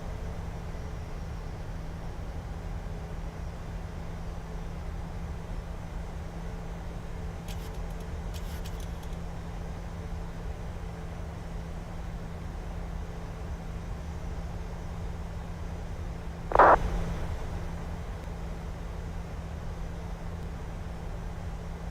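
An airliner taxis toward the runway in a flight simulator game: a steady low engine hum and broadband hiss that drones on evenly, broken once by a short click-like burst, with no one speaking.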